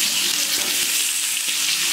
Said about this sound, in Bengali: তেলে আমি আলুগুলোকে ভেজে